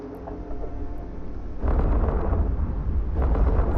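Weapons fire from spaceships in the video game EVE Online, a low rumbling roar that swells suddenly partway through into heavy, sustained booming blasts.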